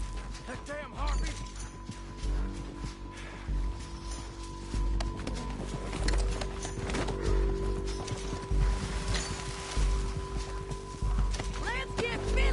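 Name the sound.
horses galloping in Red Dead Redemption II video game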